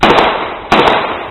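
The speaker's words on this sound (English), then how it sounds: "In a moment, you will hear gunshots." Two sharp gunshots from gangsters attempting to kill a rival, a loud crack at the start and a second at about 0.7 s, each followed by a broad echoing tail and nothing else heard.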